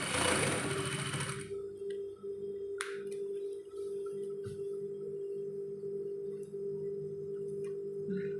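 Sewing machine stitching the curved hem of a sarong: a brief burst of rapid stitching at the start, then a steady, fairly quiet motor hum with occasional small clicks.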